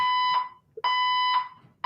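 A loud electronic alarm sounds in long, steady tonal beeps that repeat with short gaps, close and clear, with no talking.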